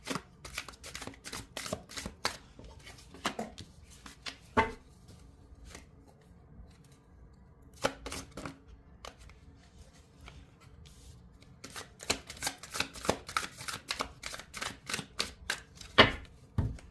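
Tarot cards are shuffled by hand in repeated crisp riffling bursts, close and fairly quiet, separated by short pauses.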